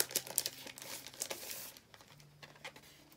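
Plastic packaging crinkles and rustles as a Cora Project craft kit is pulled out, with a burst of crackling handling noise early that thins into a few softer crinkles, close and fairly quiet.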